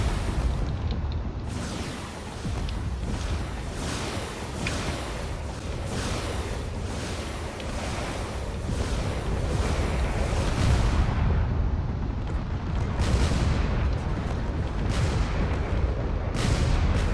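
Drone-war video game battle as a ship's hull takes a barrage of shots and it crashes into the ground: loud, dense rumbling booms and roaring blasts run continuously throughout, with sharper cracking impacts toward the end.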